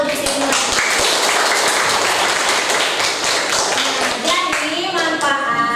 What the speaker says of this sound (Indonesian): Berikan tepuk tangan untuk ibu.